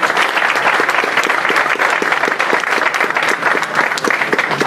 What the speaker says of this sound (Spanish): Recibámoslo nuevamente con un fuerte aplauso